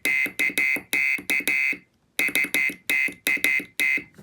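Piezo buzzer driven by a DIY 555 timer lo-fi synth gives loud, shrill beeping bursts in a stuttering, uneven rhythm, a short gap of silence midway, then more rapid pulses.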